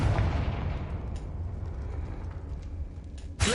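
Confringo fire spell in Hogwarts Legacy, a heavy blast at the start that rumbles and fades over a few seconds, followed by a sharp crackling burst near the end.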